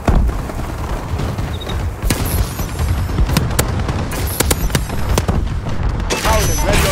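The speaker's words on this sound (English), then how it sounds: "Friendly bombing run clearing the way." Explosions from an air bombing run in the Call of Duty: Advanced Warfare video game, a dense loud rumble broken by sharp blasts and cracks of gunfire, with game voices talking over the din.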